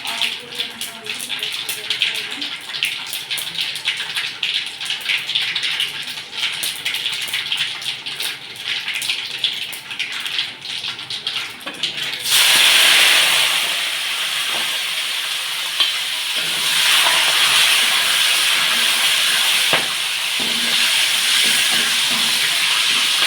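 Mustard seeds and urad dal in hot oil for tomato sambar, a loud continuous sizzling hiss that swells abruptly into a dense crackling spatter partway through and keeps going steadily.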